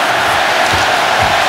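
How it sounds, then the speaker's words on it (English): A hockey arena crowd chants for goalie Pekka Rinne, a loud, continuous roar of many voices with rhythmic swells, close and dense. "The Pekka chants coming up from the crowd."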